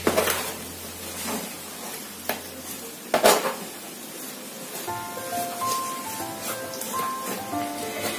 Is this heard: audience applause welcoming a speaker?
no